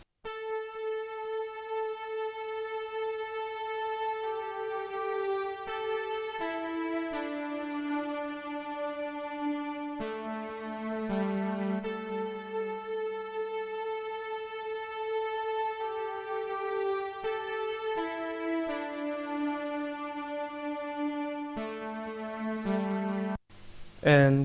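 A Full Strings layer from DSKU Overture blended with a Dream Saw synth pad from SRX Keyboard plays sustained, slowly shifting chords for a nostalgic R&B sample, warm and steady throughout, ending with a brief louder burst.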